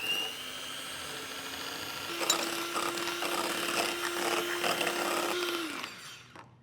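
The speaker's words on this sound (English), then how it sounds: "you beat the mascarpone and the cream using a handheld beater" A handheld electric beater whisks mascarpone and cream in a large bowl, a steady motor whine running for several seconds with scraping, rattling texture from the beaters against the bowl before it spins down.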